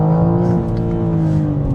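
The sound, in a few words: BMW M4 Competition accelerating, engine bouncing off rev limiter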